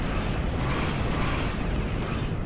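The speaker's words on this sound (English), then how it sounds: "Those are cannons that you can use." Starship cannons firing in Star Trek Online, a dense, continuous barrage of booming blasts that blur into a loud, steady rumble with no pauses.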